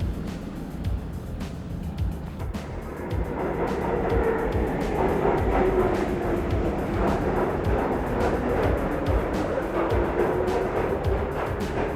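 Low rumbling of a train in motion, swelling louder after a few seconds and holding a steady roar with rattling clicks.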